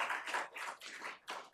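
Applause from an audience in a city council chamber during a committee meeting, a brief burst of several people clapping with uneven rhythm, moderately loud and close, with no talk over it.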